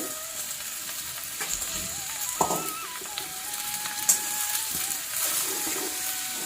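Hing, turmeric and cumin sizzle in hot oil over a low flame for a Gujarati tindora dish, a constant close hiss with a few light clicks and taps, steady throughout and no one speaking.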